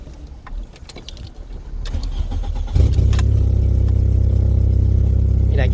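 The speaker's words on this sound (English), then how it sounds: "start the engine and see if it actually maintains an idle" A VW Jetta MK3 engine cranks, catches and settles into a steady, loud idle nearby, held running on fuel fed into the intake during fuel pump testing.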